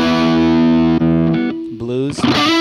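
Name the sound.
guitar turbo overdrive distortion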